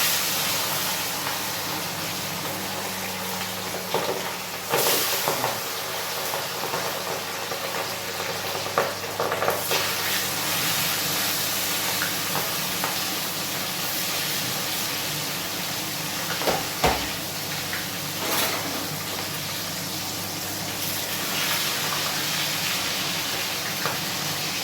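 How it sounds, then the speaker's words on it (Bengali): Chicken legs deep-frying in hot oil in a wok, a continuous close hiss and sizzle with occasional louder crackles and spatters throughout. "দেখতে পাচ্ছেন বন্ধুরা, আজকে আমার চিকেনের লেগ ফ্রাই হচ্ছে।"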